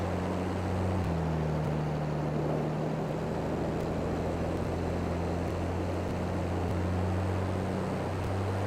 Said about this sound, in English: Maybe this tractor won't do it. It's having a hard time already.